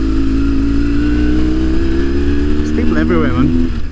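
A BMW R1150 GS motorcycle engine drones steadily and loud at close range, then its pitch rises briefly as the throttle opens. A voice talks over it near the end.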